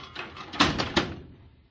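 The wooden drawer of an estate sale cabinet is worked open and shut, giving two quick scraping, knocking pulses close by before the sound fades.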